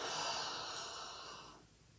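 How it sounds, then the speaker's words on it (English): A single long, close exhale empties the lungs during a yoga breathing exercise, starting strong and fading to quiet over about a second and a half. "Letting all the breath out."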